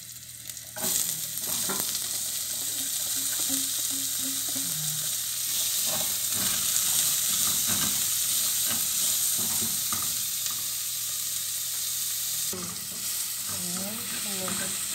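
Onion fries in a hot pan for a Filipino chicken afritada, giving a steady, loud sizzling hiss throughout, broken by scraping stirs and clinks of a utensil against the pan.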